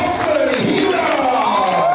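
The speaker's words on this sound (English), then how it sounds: "Let's hear the applause." A stadium crowd at an athletics meet cheers and applauds an athlete being introduced, a loud sustained roar with voices rising and falling and an announcer's voice mixed in.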